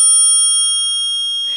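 A skull-decorated bicycle bell rings once, a bright sustained metallic ding that slowly fades, followed by a brief rustle at the end.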